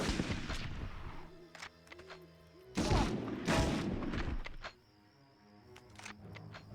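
Gunfire from the 1999 video game Medal of Honor rings out as a string of sharp shots and heavier booming bursts, loud and close, tapering into scattered single cracks over game sounds.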